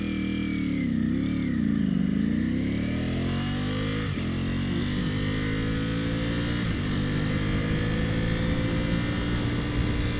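A 2021 Ducati Panigale V4 Superleggera motorcycle, ridden hard, its engine loud and close, rising and falling in pitch through throttle changes and shifts with a steady high-revving drone.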